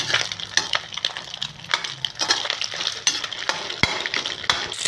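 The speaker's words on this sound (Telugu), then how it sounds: "నేను ఫ్లేమ్ కొంచెం పెద్దగా చేసి ఫ్రై చేస్తున్నాను" Egg sizzles in a hot pan over a high flame for egg fried rice while a spatula scrapes and taps against the metal in irregular bursts, close and fairly loud.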